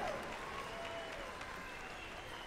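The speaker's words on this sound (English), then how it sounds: "How about a round of applause for the Miss Indian World?" Audience applause for the Miss Indian World contestants at the 2018 Gathering of Nations, a steady, faint wash of clapping from a distant crowd that holds evenly throughout.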